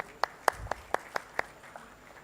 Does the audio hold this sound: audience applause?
yes